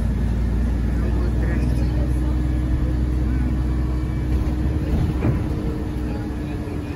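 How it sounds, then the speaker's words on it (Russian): A car drives across the Palace Bridge with a steady, close road and engine rumble that stays loud and even throughout. "Ну все, едем мы по мосту по Дворцовому"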